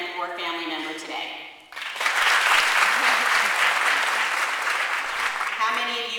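Graduates at a university commencement ceremony break into loud, sustained applause and cheering from a large crowd, following a speaker's voice addressing them.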